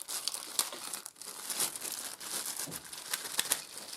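Bubble wrap packaging from a Remington F3 foil shaver box handled and crinkled up close, a continuous dry crackle with sharp bursts, no talking.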